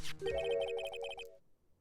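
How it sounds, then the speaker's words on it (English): A phone ringtone from the video game Phoenix Wright: Ace Attorney plays a quick, bright electronic melody of repeated chiming notes for just over a second before cutting off, clear and alone. "I heard a phone ring just now. One of those newfangled ringtones."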